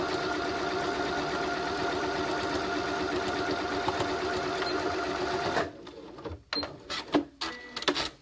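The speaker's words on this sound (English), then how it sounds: "now you can just sew this part, the boot of the toe, shut" A sewing machine stitches the toe of a Christmas stocking shut with a steady, fast mechanical whir for over five seconds, then stops, leaving a few soft handling knocks and rustles.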